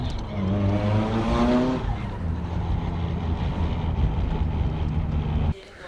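A Nissan S14 drives with its turbo boosting, the engine note loud and close as it rises, wind noise rushing over the microphone before the sound drops off abruptly near the end.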